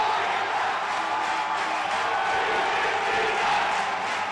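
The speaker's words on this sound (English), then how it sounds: "Crowd on its feet." A football stadium crowd at a Philippines versus Tajikistan qualifier cheers in a dense, continuous roar, loud and unbroken throughout, with no distinct voices standing out.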